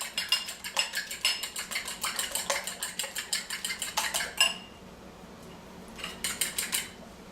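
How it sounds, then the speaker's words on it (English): A fork beating biscotti ingredients in a bowl, with rapid rhythmic metal scrapes and taps against the dish in a steady run, a brief pause, then a few more quick strokes. "So this, you just mix it up with a good old fork."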